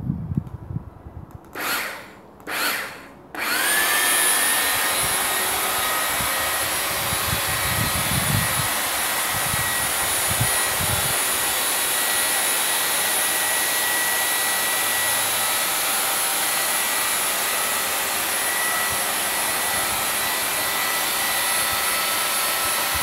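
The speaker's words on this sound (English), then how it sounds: "It's going to be the first trial of the Lidl's long reach hedge trimmer out in the garden." Lidl long reach hedge trimmer running in a garden, a couple of short bursts as it starts, then a steady, loud, buzzing motor drone that continues unbroken to the end.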